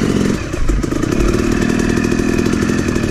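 A YZ 250 two-stroke dirt bike rides a snowy turn track, its engine snarling loud and close with a steady high buzzing note and brief bursts of throttle and clatter throughout.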